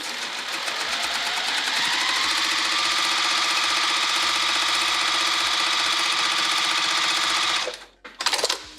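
A sewing machine topstitching the top edge of a bag pocket runs in a fast, steady mechanical whir for about seven seconds, then stops, leaving a few brief clatters.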